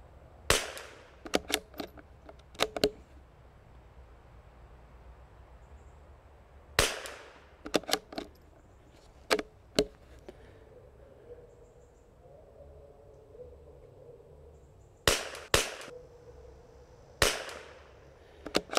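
A Springfield 2020 rimfire rifle fires about a dozen sharp cracks, single and in quick pairs or clusters, with pauses between, outdoors over faint insect chirping.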